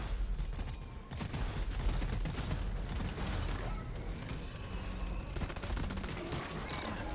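Weapon fire in Deep Rock Galactic: dense bursts of rapid shots cracking over a busy, rumbling battle mix, with brief pauses between volleys and voices talking.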